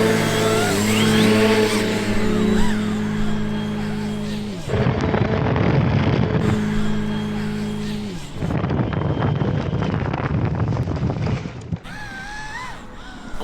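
Electric motors of a remote-control flying lawnmower whine loudly in two sustained bursts with steady tonal pitch, separated by rough, noisy gusts and clattering, close to the microphone.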